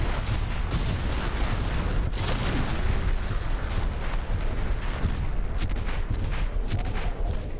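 Armor-piercing shots destroying tanks in the video game Mechassault 2 create dense, continuous explosive booms and gunfire. The roar is steady and loud, with sharper blasts breaking through it.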